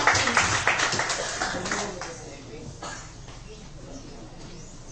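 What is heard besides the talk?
students clapping hands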